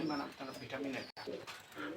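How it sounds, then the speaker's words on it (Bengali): A pair of Imamdin pigeons cooing softly and continuously, close by, with someone speaking over them throughout. "এখানে এক জোড়া ইমামদিন কবুতর আছে"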